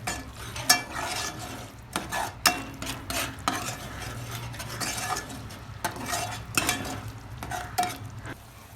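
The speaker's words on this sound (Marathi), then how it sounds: "हे टाकून द्यायचं असं पाऊन चमच्याच्या जवळपास आणि याला चांगलं असं मिक्स करून घ्यायचं" Chicken being mixed with red chilli powder and spices in a pan: irregular scraping and clinking stirring strokes, close and moderately loud, over a low background hum with no talking.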